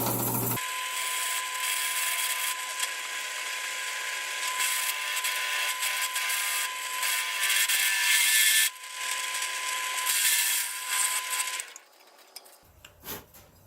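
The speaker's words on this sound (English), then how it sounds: "I'm going to go ahead and drill those all through" A drill press bores holes with a 21/64 bit using cutting fluid, a steady loud whining drone with a constant tone running for about eleven seconds before the motor cuts and a few faint clunks follow.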